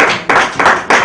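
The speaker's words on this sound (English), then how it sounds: "a round of applause, please" Applause breaks out at an award dinner party honoring Ambassador Justina Mutali, heard as a loud, close clapping sound in three or four bursts.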